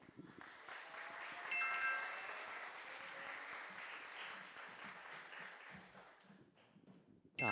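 A crowd applauds steadily for several seconds at a high school mock criminal trial competition, dense clapping with some cheering mixed in, heard from within a large room.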